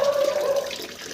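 Water running steadily from a tap into a sink as a child washes their face at home, a close continuous splashing stream with a faint tonal whistle in the first half.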